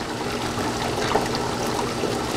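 Water jet driving upward against a 300 gram weight in a lab flow apparatus, a steady hissing, trickling rush of water that continues evenly throughout.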